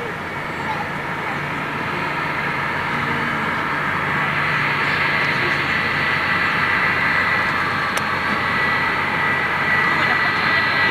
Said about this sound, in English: Or is it maybe just a 737 or something like that?